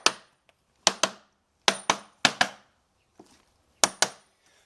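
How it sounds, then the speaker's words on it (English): A metal socket taps on the clamp band of a Pentair Quad DE pool filter, giving sharp, close metallic knocks mostly in quick pairs, with a few faint light touches between them. "So I always like to tap it a few times to help seat it"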